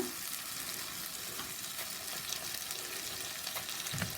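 Steady sizzling of tomatoes sautéing in a pan, a continuous crackle with a brief stir or scrape near the end, no voices.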